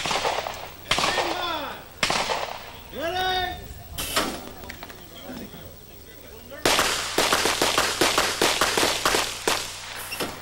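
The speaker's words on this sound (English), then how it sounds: "She's shooting very well here this year." Pistol shots ring out at the 1990 NRA Bianchi Cup National Action Pistol Championship, sharp cracks in bursts with a rapid string near the end, mixed with a voice and crowd chatter.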